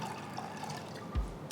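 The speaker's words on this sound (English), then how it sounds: "Pour enough water so it's completely immersed." Water poured into a pressure cooker over soaked green gram, a quiet trickling splash close by with a short gurgling rush near the end.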